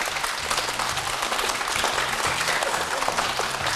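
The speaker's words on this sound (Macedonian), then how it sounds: "Па тоа заслужува аплауз" A studio audience claps steadily for a child pianist on a Macedonian TV show, a dense, continuous wash of applause that holds at an even level with no voices standing out.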